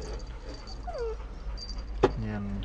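Small puppies whimper and yip in short, high, wavering cries close by, over a low steady hum, with a sharp knock and then a brief voice near the end.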